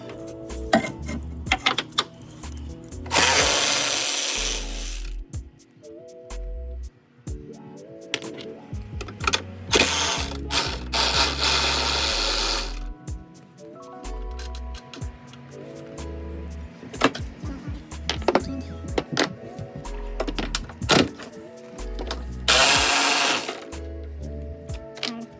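An electric impact tool zips and rattles in repeated short bursts while removing 14 mm strut nuts on a 2014 Honda CR-V front strut, close and loud with pauses between runs.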